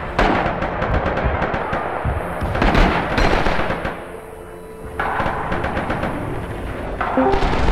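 Artillery and gunfire in the Rising Storm video game at a phosphate plant, loud repeated booming blasts and rapid cracking shots, dense and continuous with a brief lull midway before resuming.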